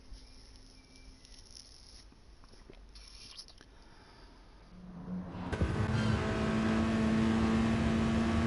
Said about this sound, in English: How much is he revving it out?